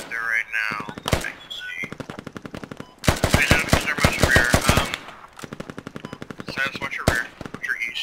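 Rapid automatic gunfire in a tactical squad shooter game, loud close bursts of repeated shots separated by short pauses.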